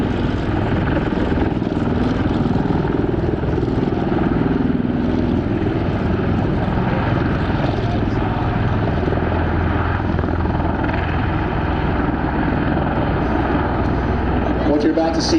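A V-22 Osprey tiltrotor flying low over show center at an air show at Beale AFB, a loud continuous rotor and engine roar with a commentator talking over it throughout.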